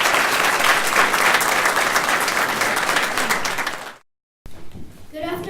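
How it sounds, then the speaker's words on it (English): Loud, dense audience applause at a speaking contest fills the first four seconds, then cuts off abruptly into a brief silence before faint room noise and the start of a voice. "Why don't we give that whole group a round of applause?"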